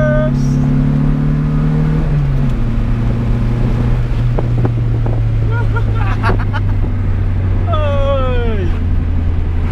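A Honda Integra accelerating hard on a street pull at Afobaka: a loud, close engine roar with a pitch drop at a gear change near two seconds, wind noise, and excited voices over it.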